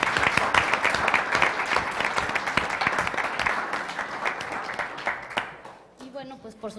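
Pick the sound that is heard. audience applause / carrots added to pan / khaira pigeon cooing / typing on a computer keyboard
audience applause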